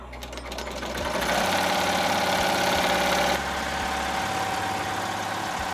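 An embroidery machine stitches a hoodie at 1,200 stitches per minute, a loud, continuous, rapid mechanical drone with a steady pulsing hum and a slight shift in tone midway.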